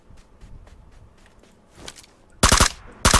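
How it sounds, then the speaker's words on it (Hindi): Machine gun fire in PUBG Lite comes as faint rapid bursts at first, then two loud, close bursts of quick shots near the end. "गोली चल रही है।"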